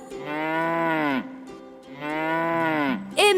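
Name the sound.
cow mooing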